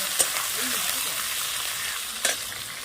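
Raw green tomatoes fry in hot oil in a wok over a wood fire, giving a loud continuous sizzle with two sharp clicks from the pan near the start and end.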